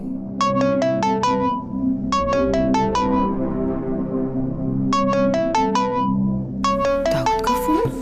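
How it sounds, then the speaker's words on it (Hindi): A phone ringtone plays a bright electronic melody in repeated short bursts of notes with brief gaps between, loud and close, over a low background in a TV drama scene. "सुबह किसका फोन आ गया?"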